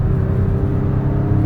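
A 2014 Toyota Sienna LTD wheelchair mobility van cruises at about 65 mph on the highway, with a loud, steady low road rumble and engine drone heard from inside the cabin.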